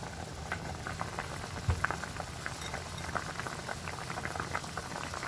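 Liquid for paksiw na bisugo boils at close range, the bubbling a steady busy patter of small pops with a brief louder knock partway through.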